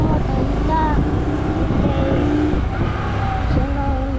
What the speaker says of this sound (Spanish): Estoy con mi papá manejando con la moto.